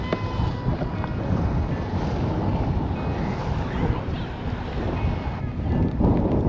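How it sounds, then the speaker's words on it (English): Strong wind buffets the microphone on a kayak out on a bay between Cabarita and Abbotsford, a loud continuous rumble and rush with faint water sounds beneath and no pauses. "Bloody windy."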